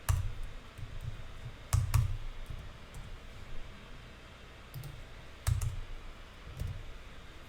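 Computer mouse clicks sound while a window type is edited in building design software: a few sharp, close clicks, some in quick pairs, spread over quiet stretches.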